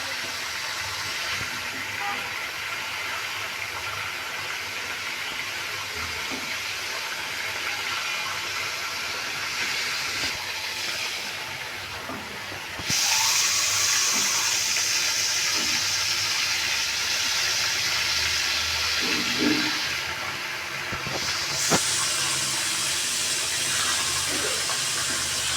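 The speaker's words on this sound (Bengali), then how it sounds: "এইভাবে সবগুলি সুন্দর করে ভেজে নিতে হবে।" Battered chicken tempura deep fries in hot oil with a loud, steady broadband hiss that grows brighter and stronger partway through, with a few faint clinks underneath.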